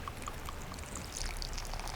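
Dark beer, a Norwegian porter, is poured into a fish batter bowl with a soft steady splashing trickle, close and quiet.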